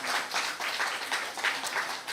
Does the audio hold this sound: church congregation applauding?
yes